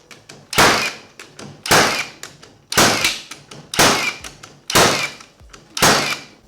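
A Milwaukee 21-degree framing nailer drives 2.5-inch nails into pine with six loud, sharp shots spaced about a second apart, each a crack and thump that quickly fades.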